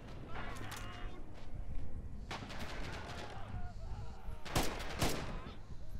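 Gunfire in the World War II shooter Red Orchestra 2, with scattered rifle shots and bursts of machine-gun fire at varying distances, fairly quiet under ambient battle noise.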